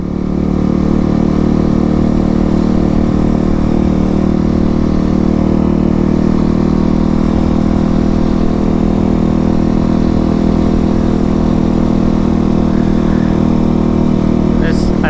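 A motorcycle engine idles loud and close outside a bike shop in Okinawa, Japan, with a steady low rumble that swells slightly with revs throughout.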